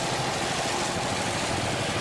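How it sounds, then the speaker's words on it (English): Twin 435 hp RPM Performance engines drive the Rockaway Express race boat on the Hudson River, a loud, constant, full-bodied roar with no let-up, heard close and alone. "These twin 435 horsepower RPM performance engines are really doing the job to propel Rockaway"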